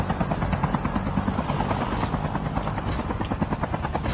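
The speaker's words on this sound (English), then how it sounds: "The chopper's right here, the chopper's right here." A helicopter in Call of Duty Mobile zombies mode thumps with steady, rapid rotor chop, loud and close throughout, with bright high whine and a few game effects layered over it.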